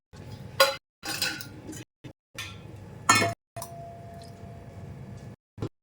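A mixer grinder bowl still coated in spice paste is handled and washed, giving several clattering clinks and knocks of metal against a sink between short pauses, close and fairly loud.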